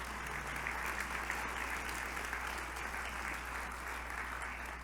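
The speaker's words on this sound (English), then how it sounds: "So let's give a round of applause to all of them." Steady, distant applause fills a gala hall at an anniversary celebration, a continuous even wash of many hands with a low hum underneath and no talking.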